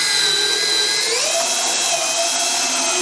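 A power drill pre-drills holes in wood for screws while building a wheelbarrow, a loud, close, high whine that shifts pitch slightly as the bit bites in, no voices.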